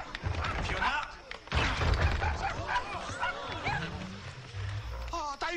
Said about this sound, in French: Oh, t'as eu un chiot, toi?